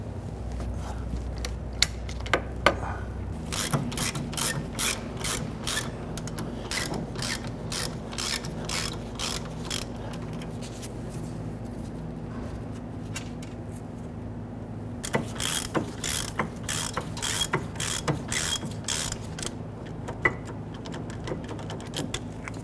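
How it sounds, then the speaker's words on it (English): A ratchet working on bolts of the rear brakes of a 2006–2012 Toyota RAV4: bursts of quick, close metallic clicking, stopping and starting, over a low steady hum. "I'll go ahead and pop a ratchet onto them"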